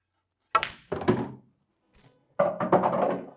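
A snooker cue strikes the white ball with a sharp knock, followed by several solid clicks of balls colliding and a flurry of impacts, close and distinct in a quiet room.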